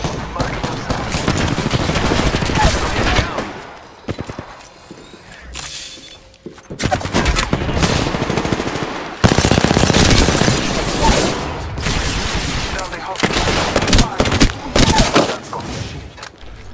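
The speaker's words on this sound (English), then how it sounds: "The enemies are shooting at me." Enemy gunfire in a battle royale game crackles in long, dense automatic bursts, loud and close, broken by short lulls and a sharp single report or two, with no talk over it.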